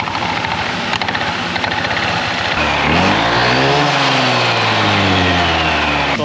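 A QJ Motor ATR160 scooter with a freshly cleaned CVT, under maintenance, starts up partway through after some background noise, then revs up and falls back in a loud, close, rising-and-falling engine whine.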